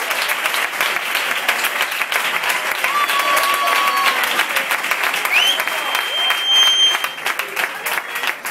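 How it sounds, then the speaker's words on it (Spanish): Church congregation at a Spanish-language service breaking into loud, dense applause for the Lord, continuous and close throughout, with faint thin tones and scattered voices mixed in. "Un aplauso para el Señor."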